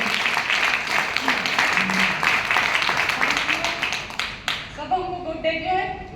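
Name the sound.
audience applause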